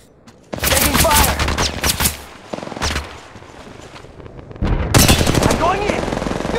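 Rapid automatic rifle fire from an R-301 Carbine in the mobile shooter Apex Legends Mobile, loud sustained bursts in two main volleys separated by a quieter lull with lighter gameplay noise.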